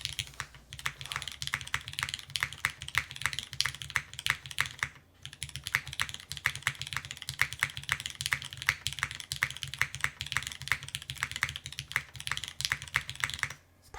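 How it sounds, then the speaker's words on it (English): Rapid typing on a 60% mechanical keyboard, dense clacky keystrokes in quick bursts close to the microphone, with one brief pause partway through. "Okay, let's do a little typing test."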